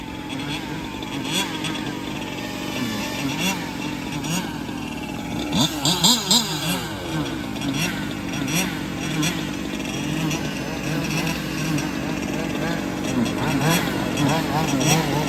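Large-scale RC touring and rally cars race at Wagner Park, their small petrol engines buzzing and revving steadily throughout, with pitch rising and falling as cars pass, while people talk in the background.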